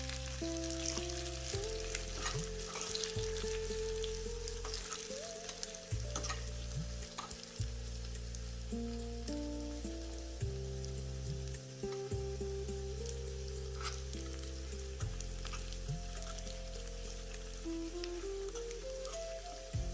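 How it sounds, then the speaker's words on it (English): Dried red chilies fry in oil in a pan while being stirred, a continuous crackling sizzle with scattered pops and clinks of the spoon, over steady background music. "Now add the dried red chilies to the pan and stir them well so that the oil coats the chilies."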